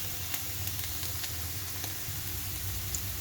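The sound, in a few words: carrots and potatoes frying in a pan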